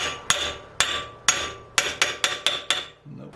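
A steel hammer striking parts of a ZX45 machine spindle during bearing replacement, eight sharp metallic blows at a steady, slightly quickening pace, close and loud with short ringing decay.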